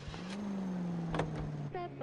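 A car being driven in the video game L.A. Noire: a steady, quiet engine hum with a slight rise in pitch, while people talk over it.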